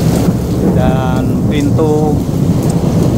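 A thunderstorm in Mecca sends a constant roar of heavy rain and gusting wind, loud and close, while people speak briefly over it.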